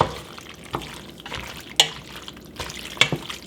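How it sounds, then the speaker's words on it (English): Marinara sauce sloshing and dripping into an Always Pan, with a few sharp splashy bursts and a metallic clink near the end; no talking. "I'm going to pour in our marinara sauce."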